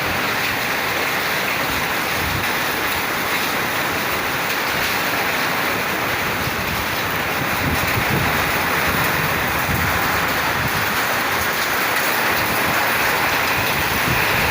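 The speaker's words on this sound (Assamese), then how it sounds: "এইফালে চাওক শিল বৰষুণ আহিছে, পূৰা এইবিলাক চাওক শিল পৰিছে" Hail pelts down in a dense, continuous rattling roar, loud and unbroken throughout, with no voices.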